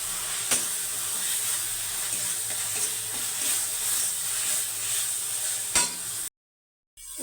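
Spice paste of ground cumin, coriander, green chilli and Kashmiri chilli powder sizzles and hisses steadily in a pan, with a couple of sharp stirring scrapes, before cutting to near silence at the end.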